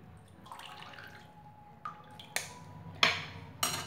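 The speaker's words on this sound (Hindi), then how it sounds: "इसे हाथ से अच्छे से मसल करके धो लेंगे और इसे चम्मच से दबा करके इसका सारा पानी निकाल लेंगे।" Washed poha pressed with a spoon in a strainer, draining its water: soft wet squishes and a few sharp drips and clicks, close and quiet, with no talk.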